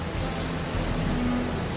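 Heavy rain with strong wind gives a dense, steady hiss close by, with a low rumble underneath suggesting thunder, and a faint whining tone runs through it briefly.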